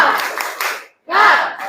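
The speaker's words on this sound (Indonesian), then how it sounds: "Tepuk semangat." Schoolchildren in a classroom chant in unison while doing a short rhythmic spirit clap, two loud bursts of voices and claps separated by a brief silence.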